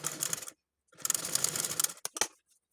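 A sewing machine stitches fabric for baby shorts in two short, rapid mechanical bursts separated by a pause, followed by a few quick clacks, close and alone.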